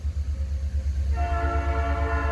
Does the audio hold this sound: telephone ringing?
no